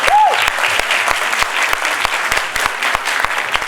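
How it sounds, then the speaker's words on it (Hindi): A crowd claps enthusiastically at a school quiz competition, dense steady applause with sharp individual claps standing out, close and loud throughout. "बहुत सारी तालियां"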